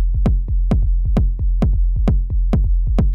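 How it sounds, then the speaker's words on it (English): Techno kick drum from an Elektron Syntakt thumping in a fast, steady four-on-the-floor pattern, each deep hit followed by a pumping low rumble and a short clicky top, loud and alone with no voices. "And together with the kick drum, sounds like this."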